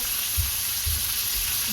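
Bacon sizzles and spits in a frying pan during home cooking, a dense, steady crackle with no voices over it.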